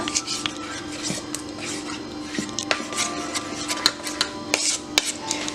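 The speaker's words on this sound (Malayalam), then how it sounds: "കട്ട പിടിച്ച് കിടക്കാതെ നന്നായിട്ട് മിക്സ് ചെയ്തെടുക്കുക" Batter for banana fritters being stirred in a bowl, a spoon scraping and tapping against the sides in an uneven rhythm, close and fairly quiet.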